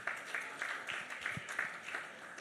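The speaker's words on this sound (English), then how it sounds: "give yourselves a round of applause" Audience applause in a lecture hall at an education event, steady overlapping clapping from a crowd at moderate volume, with no voices.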